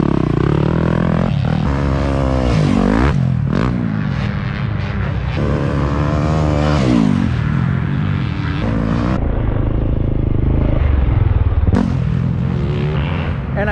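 A supercross dirt bike rides over ruts and a jump, its engine loud and close throughout, revving up and down in rising and falling sweeps with brief throttle chops.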